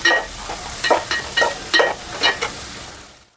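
Onions fry in a pan with turmeric and salt for an egg biryani. A steady sizzle runs under rhythmic stirring scrapes, about eight strokes, and the sound fades out at the end.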